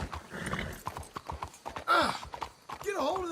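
Horse hooves clip-clop in a quick, close, regular patter in Red Dead Redemption 2 while a horse briefly whinnies and voices speak over it.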